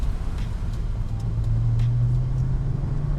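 A 2014 Chevrolet Camaro Z28 with its LS7 V8 driving along, a steady low engine drone and road rumble from inside the car with a slight rise in pitch midway, no talking over it.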